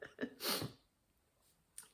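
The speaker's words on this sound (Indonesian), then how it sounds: "saya bersin" A single sharp human sneeze with a quick inhale before it, close and fairly quiet in an indoor room, followed by near silence and a faint breath.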